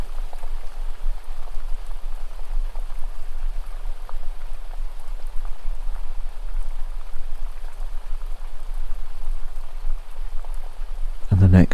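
Steady rain falls in a continuous, even hiss with fine patter, constant and moderately loud throughout, with a brief louder thump at the very end.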